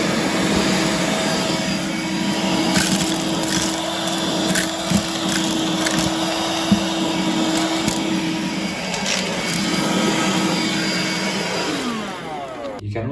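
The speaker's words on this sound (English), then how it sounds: "device to use to hoover dirt from your drawers, such as this" A Bosch BHN24L handheld vacuum cleaner hoovers small bits and spilled seeds from a kitchen drawer, whining steadily at close range with scattered clicks and rattles of debris being sucked up before it winds down.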